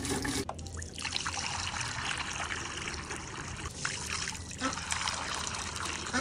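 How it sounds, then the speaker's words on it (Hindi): Water pours and trickles steadily into a pigeons' water container, a broad, continuous splashing stream that runs for several seconds with brief pauses near the start. "सबसे पहले यार पानी भरते हैं"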